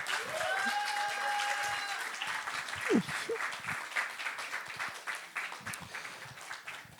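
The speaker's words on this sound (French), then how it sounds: "on peut applaudir Serge." Audience at an evening YouTuber show in France claps for a guest, thick applause that is loudest at first and gradually thins into scattered claps, with a few brief whistles and cheers near the start.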